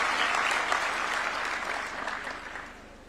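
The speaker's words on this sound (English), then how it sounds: "A round of applause for her." A crowd at a presidential award ceremony at State House, Nairobi claps enthusiastically, the applause strong at first and gradually tapering off toward the end.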